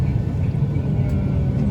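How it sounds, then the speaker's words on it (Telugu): On a Mumbai to Delhi flight, an airliner's engines hum in a loud, steady low rumble heard from inside the cabin, continuous through the brief moment. "ఫ్లైట్ అయితే స్టార్ట్ అయిపోతుంది"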